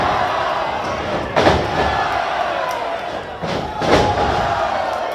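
Shoulder tackle slams in a Hammerstone vs Jimmy House wrestling match, two heavy thuds a couple of seconds apart over a steady arena crowd roar.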